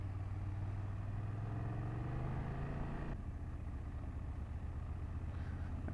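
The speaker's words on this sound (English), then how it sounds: "The bike behaves very well at slow speeds on second gear." A BMW F800GS motorcycle engine drones at slow speed in second gear, a steady low hum that rises slightly in pitch, then changes character abruptly partway through, with wind rumble and no talk.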